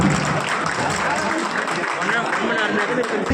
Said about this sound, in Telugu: గట్టిగా చప్పట్లు అందరూ కూడా